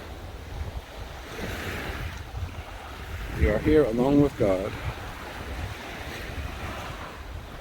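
Surf washing onto a quiet Cancun beach on a Sunday morning, a steady far-off rush of waves with wind buffeting the microphone, while someone speaks briefly over it midway.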